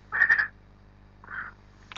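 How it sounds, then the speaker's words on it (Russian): Toads croak in the YoWindow weather app's landscape scene: a loud burst of several quick croaks, then a softer single croak a moment later, with a faint click at the end. "Жабы квакают."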